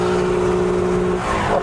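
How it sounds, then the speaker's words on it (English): Lexus LC500 accelerating hard with rear tyres spinning: a loud, close engine drone with strong harmonics that changes pitch near the end, mixed with tyre squeal and no speech. "this thing will allow you to do proper burnouts and really get the tail out"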